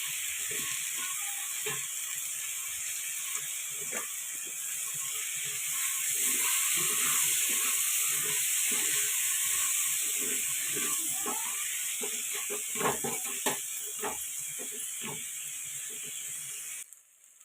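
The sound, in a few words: frying coconut rice in a pan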